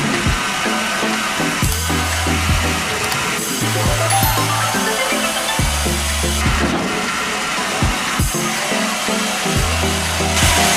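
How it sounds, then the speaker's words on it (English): A log-cutting machine working on sturdy round logs, its motor running loudly and steadily with repeated low droning cycles as pieces are cut, no voices present. "How can sturdy round logs be split into such evenly cut pieces of wood?"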